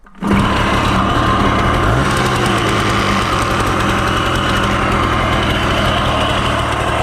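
A Karpaty moped engine fitted with a Honda Dio piston catches almost instantly and settles into a steady, high-pitched buzzing idle that holds without pause.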